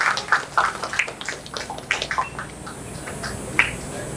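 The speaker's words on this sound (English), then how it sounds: "Let's give a big round of applause to them." Audience at a Rotary club inauguration in Thane clapping for a family, a moderate indoor round of applause with scattered claps and a few voices underneath.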